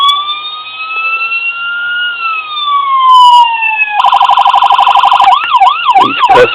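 A loud electronic siren from a diecast Ford Interceptor police model wails and sweeps in pitch, then switches through several different tones, including a rapid pulsing yelp and a warbling whoop.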